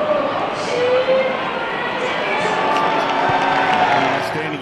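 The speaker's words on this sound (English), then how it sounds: "Do a huge round of applause here at the Cattery." Large stadium crowd at an Australian football match, a loud, continuous roar of cheering and applause with whoops rising above it.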